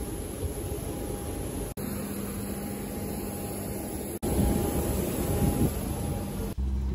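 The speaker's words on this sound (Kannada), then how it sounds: "ಇದೇ ನೋಡಿ ನಾವು ಹತ್ತುವ ಫ್ಲೈಟ್." Passenger airplane standing at the airport before boarding, heard as a steady, loud roar of engine and air noise with a faint whine, continuous apart from a few abrupt cuts.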